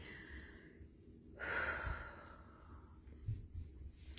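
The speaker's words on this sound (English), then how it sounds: "go ahead and continue with your deep breathing" Deep breathing during a guided meditation: one slow, soft inhale-exhale swell rising in the middle, quiet and close over a faint background hum.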